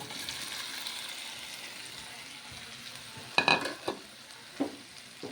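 Bitter gourd pieces tipped into a hot pan and stirred: a soft continuous sizzle, then a burst of clattering scrapes and a few distinct knocks of the spoon near the end, close up, no talking.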